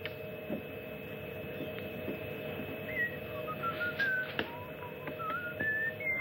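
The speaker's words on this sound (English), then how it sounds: "Would you quit that whistling?" A person whistles a meandering tune, thin and moderately distant, in scattered rising phrases over a steady background hum in an old 1960 film soundtrack.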